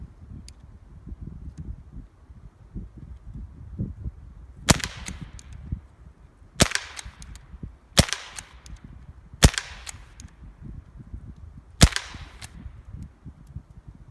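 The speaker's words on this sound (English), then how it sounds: "And you can see how fast I'm shooting them." Five sharp shots from a Benjamin Wildfire PCP air rifle firing RWS Diablo pellets, spaced about one to two seconds apart in quick follow-up succession, each a crisp, loud crack over a low background rumble.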